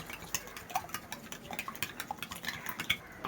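A spoon stirs a caramel pudding mixture of sugar and vanilla essence in a bowl, with quiet irregular scraping and light clinking taps repeating in a loose rhythm.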